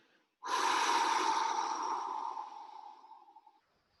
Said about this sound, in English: Let the inhale to be natural, to be relaxing, to be deep towards the bottom of the lungs. And exhale.